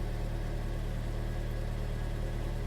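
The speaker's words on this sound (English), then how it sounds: "So to start the car, put on the clutch and disarm, and there we go, starts up." A Honda Integra DC5 engine starts and idles with a steady, low mechanical hum and even rhythm, close and moderately quiet, with no talking.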